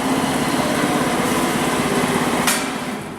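A CNC surface grinder running its Y axis in rapid traverse gives a steady, loud mechanical whine and hum throughout, easing off slightly toward the end after a brief click.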